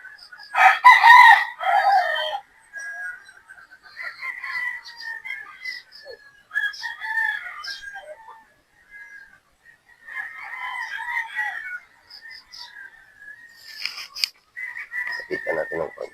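A sweater gamefowl rooster at a game farm crows loudly and nearby, several drawn-out crows with clucking and short calls between them, heard alone without talk.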